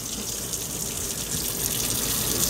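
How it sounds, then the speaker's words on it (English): Cold tap water runs steadily into a kitchen sink to soak raw chicken, a continuous close hiss and splash with no voices. "We're gonna put some cold water in here and soak them"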